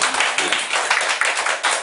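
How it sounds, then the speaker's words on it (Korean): An audience at a Korean youth panel talk claps in a short burst, a dense, fairly loud patter of many hands that keeps an uneven rhythm for about two seconds. "박수 한번 쳐주시고."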